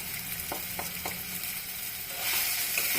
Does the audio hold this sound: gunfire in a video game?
no